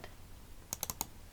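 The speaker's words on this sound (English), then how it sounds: "So I'm just going to double click on it." A quick cluster of sharp computer clicks, four or five crisp taps close together, then one more a moment later, quiet and near against a soft room hiss.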